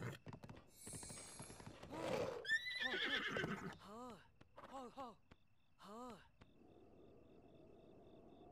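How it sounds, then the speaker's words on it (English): Several whinnying neighs from a horse in the video game Breath of the Wild, clear and fairly close, spaced across the clip, with muffled game sounds and some talk mixed in before them. "Where are you going, horse?"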